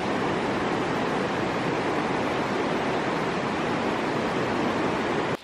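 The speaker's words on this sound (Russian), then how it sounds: "Вот эта вот река Кентриши, она впадает в море там далеко." The Kintrishi mountain river in Adjara's national park rushes past close by, a loud, continuous broadband roar of flowing water that stays steady throughout without pauses.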